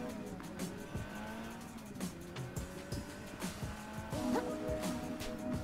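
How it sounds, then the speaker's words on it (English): Car engine and squealing tires in the game Another Crab's Treasure, with a steady revving drone, skids and scattered impacts running throughout at close range. "We can outrun that car."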